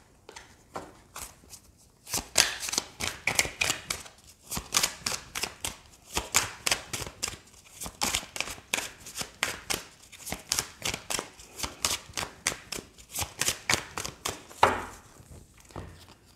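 Oracle cards are shuffled close up in a long run of rapid, rhythmic riffling bursts and soft slaps, fairly quiet and steady, with no talking.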